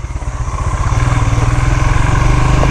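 A Royal Enfield Himalayan motorcycle riding off-road on a jungle track, its single-cylinder engine thumping in a fast, even pulsing beat, loud and close, rising slightly as it pulls.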